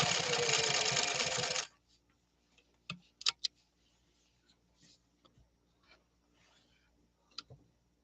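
A vintage sewing machine stitches through two layers of 100% cotton with a stiffener between them. It gives a loud, fast mechanical whir for under two seconds, then stops, leaving quiet clicks and taps.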